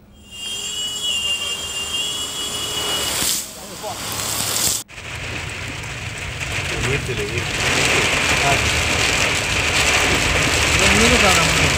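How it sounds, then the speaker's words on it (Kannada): Heavy monsoon rain pours across flooded roads in Mangaluru, a steady loud wash of falling water that swells after a brief dip midway, with traffic noise mixed in. "ಬೆಳ್ತಂಗಡಿ, ಸುಳ್ಯ, ಬಂಟ್ವಾಳ ಭಾಗದಲ್ಲಿ ಧಾರಾಕಾರವಾಗಿ ಮಳೆ ಸುರಿತಾ ಇದೆ."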